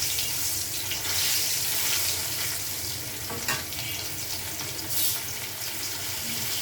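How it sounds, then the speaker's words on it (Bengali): Fish frying in a pan sprinkled with salt, a steady close hiss of oil with watery sizzle running throughout and a few brief louder spatters. "একটু লবণ ছিটা দিয়ে মাছ ভাজি হয়"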